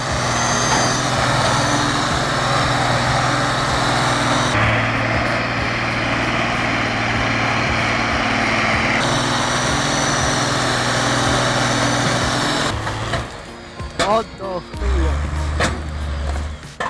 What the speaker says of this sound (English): The engine roars again. Ursa's 1614 faces a tough mission, hauling logs weighing tons.